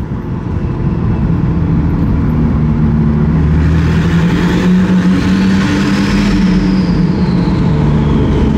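A Koenigsegg CCX hypercar engine roars loud and close, a sustained deep drone that rises in pitch as the revs climb and then eases back, without talk over it.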